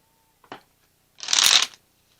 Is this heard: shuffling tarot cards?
yes